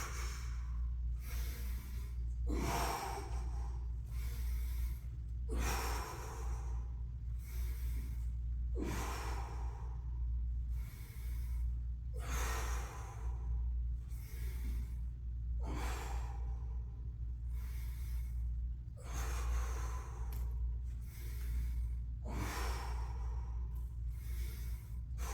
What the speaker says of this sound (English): Make sure you have good breathing patterns on these.